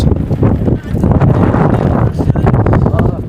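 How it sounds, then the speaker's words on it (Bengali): Strong wind buffets the microphone in a loud, continuous rumbling roar with gusty surges throughout, on a houseboat in a channel at Tanguar Haor wetland, Bangladesh. "প্রচণ্ড লেভেলের বাতাস"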